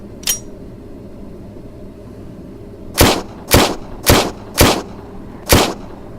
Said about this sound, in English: Being a semi-automatic, we have to rack the slide back to load a bullet into the chamber.